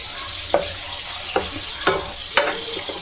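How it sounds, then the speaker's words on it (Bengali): Jackfruit frying with onion, ginger and garlic in a pan gives a steady, close sizzle, broken by four spaced scrapes of the spoon as it is stirred. "এঁচোড়টা ভালো করে কষিয়ে নিই পেঁয়াজ আদা রসুনের সাথে।"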